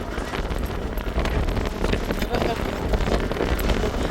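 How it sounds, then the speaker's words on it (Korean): Strong wind buffets the microphone at the Sokcho seaside in Korea, a constant loud rumbling roar with gusty crackles throughout. "바람이 세게 불고 있죠."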